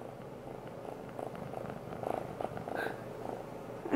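A cat purring up close, soft rhythmic rumbling pulses in a quiet room.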